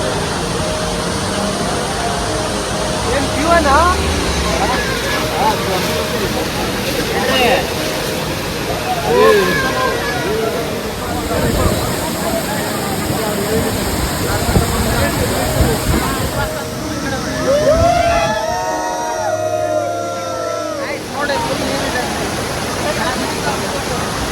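Amboli waterfall in foggy hill country in Maharashtra roars as a steady broadband rush of falling water throughout, with voices of people talking nearby over the constant noise.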